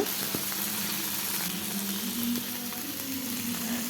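Food sizzles and fries steadily in a pan just before chopped tomatoes go in, a continuous close hiss with no talking over it.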